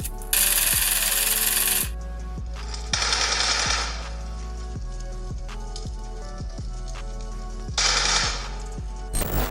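Rapid gunfire bursts in the mobile game PUBG Mobile with a car blowing up, sharp repeated shots in an even rhythm punctuated by several loud blast bursts, game audio without talking.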